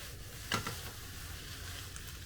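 Udon noodles and precooked pork stir-frying in a pan, a soft, quiet sizzle with one brief louder stir or clatter early on, otherwise a faint steady hiss and no voices.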